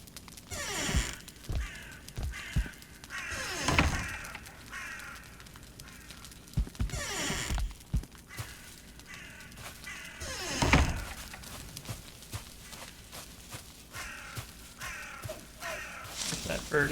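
A bird caws several times in the Valheim video game, harsh calls recurring every few seconds over a busy in-game background of thuds and rustles, moderately loud and near.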